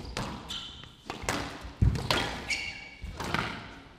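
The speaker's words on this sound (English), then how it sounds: "There goes the lob, beautiful shot." Squash ball struck during a lob in a professional men's squash match at the Grasshopper Cup 2022, with a sharp thud near the middle amid several softer court impacts and squeaks, under faint commentary.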